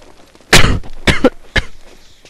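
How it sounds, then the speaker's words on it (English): A man coughs three times in close succession, loud and near, with short rough bursts separated by brief pauses. "please excuse my coughing"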